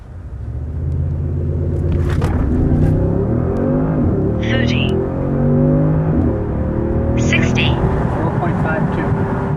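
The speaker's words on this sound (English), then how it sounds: "And then you release the brake, that's launch control" A 2018 Audi S6 engine roars under launch control acceleration, a loud sustained rumble rising in pitch with rising revs, heard from inside the car over a passing voice.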